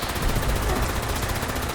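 A Gatling laser weapon fires in the V63-Helga video game, a dense rapid stream of crackling shots at full loudness with no break across the short burst.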